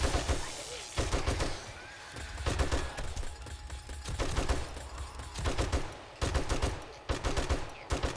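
Gunfire from the PC game 7 Days to Die crackles in loud, rapid bursts at a base under attack, with several sharp clusters of shots separated by short gaps against a steady background hum.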